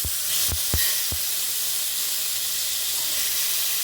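Chopped tomatoes drop into hot oil in a pan for a cabbage dish, giving a loud, close, steady hiss and sizzle with a few thumps at the start. No talking.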